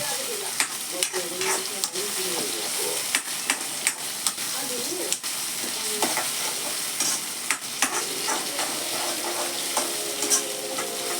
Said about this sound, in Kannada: ಇದಕ್ಕೆ ಹಾಕ್ಬಿಟ್ಟು ಚೆನ್ನಾಗಿ ಹುರಿಬೇಕು.